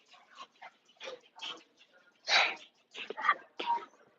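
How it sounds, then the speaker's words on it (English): A dog on a porch lets out a series of short, sharp barks at close range, with the loudest burst in the middle and quieter murmurs between them. "What are you barking at?"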